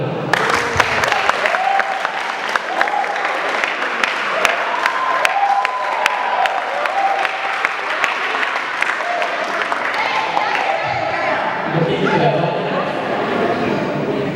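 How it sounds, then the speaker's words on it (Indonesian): An audience at a church youth organization gathering applauds in a long, dense wave of clapping mixed with crowd noise and faint voices, staying loud throughout. "tepuk tangan dulu"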